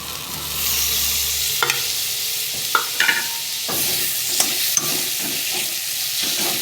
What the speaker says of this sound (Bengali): মশলাটা একটু লেগে যাচ্ছে, একটু করে নাড়ব।